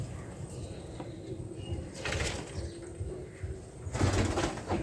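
Soft cooing of caged Australian doves among a flock of pigeons kept on a farm, low repeated coos over a quiet background with a few brief flutters or rustles.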